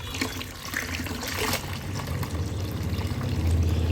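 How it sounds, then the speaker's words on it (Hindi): Water poured from a tap into a small bucket or tub to mix soapy cleaning solution, a continuous close splashing and gurgling stream that grows slightly fuller as the container fills. "हम नॉर्मल वाटर लेंगे और भर लेंगे एक बकेट में या टब में छोटे, जैसे मैं भर रहा हूँ।"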